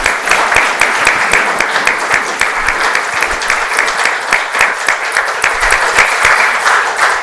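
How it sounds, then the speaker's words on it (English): A lecture audience bursts into dense, sustained applause, many hands clapping loudly and evenly for the whole stretch, close and without speech. "let's give her a huge round of applause"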